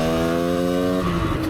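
A cold project motorcycle engine revs briefly, a buzzy, harmonic-rich drone held steady then dropping in pitch, close and loud with no talk.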